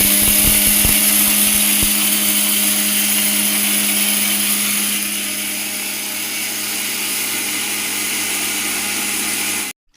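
A mixer grinder whirs loudly and steadily as it grinds fennel seeds into powder for a homemade spice masala, a dense motor roar with a slight drop in pitch midway before cutting off abruptly near the end.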